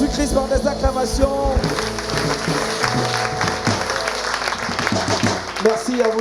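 An audience at a Christian worship broadcast claps and cheers in acclamation, loud sustained applause mixed with voices and musical tones throughout.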